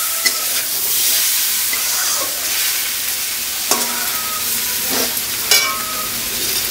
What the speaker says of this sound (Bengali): কষে এসেছে কিন্তু, মানে ভাজা ভাজা হয়ে গেছে